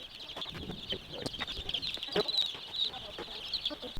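Many baby chicks peeping together in a dense, continuous high chatter at the start of chicken season, close and steady, with quiet talk and a few soft bumps underneath.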